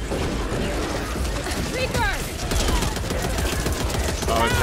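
Rapid gunfire from weapons in the zombie shooter game Back 4 Blood, a dense sustained stream of shots with clattering action close up, while people talk over it.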